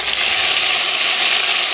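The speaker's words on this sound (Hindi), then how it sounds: "चलिए अब लगाते हैं चने को तड़का।" Cumin, ginger and tomato sizzle loudly in hot oil as a tempering for boiled chickpeas, a steady close hiss and crackle with no talk.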